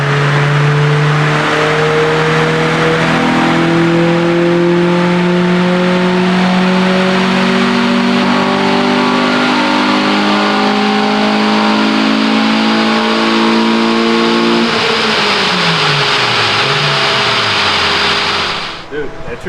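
A car running on a chassis dynamometer accelerates steadily, engine pitch climbing through gears in rising harmonic sweeps, loud and close, before easing off near the end; talk runs faintly beneath.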